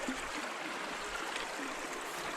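A river flows just above a set of rapids, giving a continuous soft rush and gurgle of moving water at a moderate, even level with no voices.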